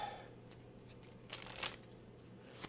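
Dropped playing cards are gathered up off the floor with quiet, brief flicks and shuffles, including one brighter riffle of card edges, faint against a low room hum.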